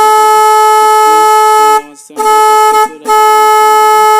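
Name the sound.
motorcycle horn being tested during repair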